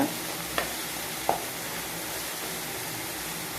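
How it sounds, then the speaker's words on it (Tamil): Onion, garlic and chili sauté in a pan with a steady, even sizzle of frying, broken by two brief sharp clicks of a spoon against the pan. "வெங்காயம் பூண்டு மிளகாய் எல்லாம் கொஞ்சம் வதங்கின பிறகு வாழைப்பூவை போட்டுக்கலாம்."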